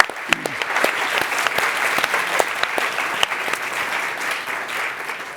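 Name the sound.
audience applause for the Climate One crew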